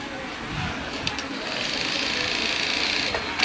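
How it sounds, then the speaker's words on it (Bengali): A Jack A2S plain industrial sewing machine runs at high speed, giving a steady, close whirring drone with a faint click at the end. "এখন চালান মেশিনটা।"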